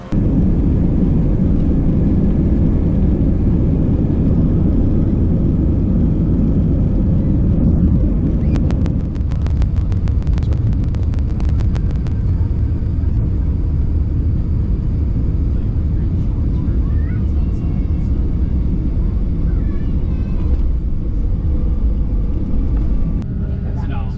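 Inside an airplane cabin just after landing in Milwaukee, a loud, steady low engine rumble and roar fills everything, with a brief crackling burst partway through and faint voices underneath.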